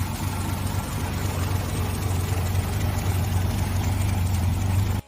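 A 225 cubic inch Chrysler slant six engine in an SV1 runs with a steady, low, even drone, held at a constant level without change until it cuts off abruptly.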